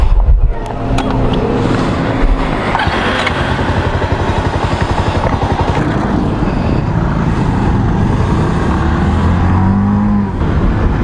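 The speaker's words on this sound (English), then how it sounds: "I'm going to test ride the Avenger 220." Bajaj Avenger 220 cruiser motorcycle on a test ride, a loud, close, continuous engine rumble with rapid low pulsing that holds steady for the whole stretch, with wind noise over it.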